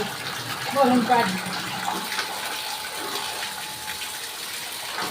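Steady running water, like a tap filling a tub, hisses continuously throughout, with a brief burst of voices near the start.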